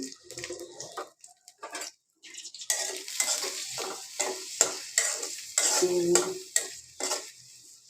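Chopped garlic and onion frying in oil with shrimp nearby, a sharp sizzle punctuated by repeated scraping stirs that grow louder after a brief quiet pause, no one speaking.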